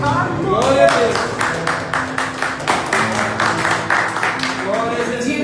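A church congregation claps and applauds together, a steady dense patter of hands filling the hall, with voices and singing woven underneath throughout.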